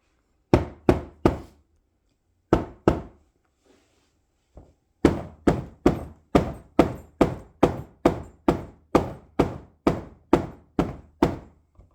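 A seat back is pushed down into a modular sectional sofa with a run of sharp, close wooden thunks, first a few spaced knocks and then a steady rapid series of evenly timed blows.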